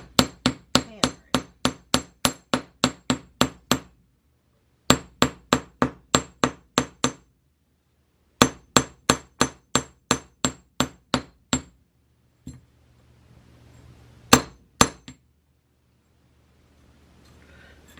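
Sharp metallic hammer strikes ring out in quick rhythmic bursts of about ten blows each, separated by short pauses, then a few scattered final hits.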